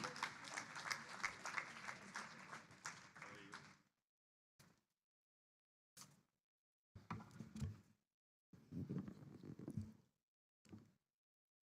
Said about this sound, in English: Please can we keep clapping?